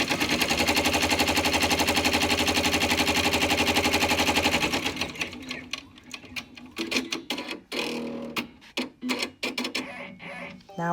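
An in-the-hoop embroidery machine stitches across the bottom of a pleat on a fabric face mask, running in a loud, fast steady rattle for several seconds before slowing into sparse, irregular clicks and thumps.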